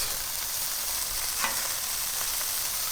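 Burgers and onions sizzle steadily on a Blackstone flat-top griddle, a dense, even frying hiss with a soft scrape or flip near the middle, no voices.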